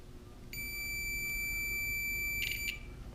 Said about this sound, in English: I should have a beep.